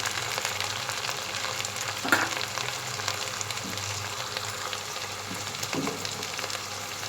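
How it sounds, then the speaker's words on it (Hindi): Quartered tomatoes with salt fry alongside onion and spices in a pan for tori ki sabzi, a constant moderate sizzle with a few utensil knocks and scrapes, no talking. "अब हम टमाटर को इसमें मसाले में भूनेंगे। प्याज के साथ हम टमाटर को भूनेंगे अच्छी तरह।"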